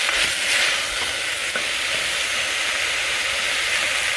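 Vegetable soup mix of green peas, carrots and corn frying in a pan over a medium flame, giving a steady dense sizzle and hiss that holds evenly throughout with a faint stirring texture.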